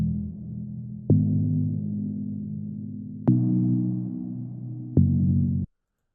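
Soft sine wave synth chords shaped by an envelope and filter, with a long 6.5-second reverb tail in a deep house setting; three sustained notes, each starting with a sharp attack, then cut off to silence.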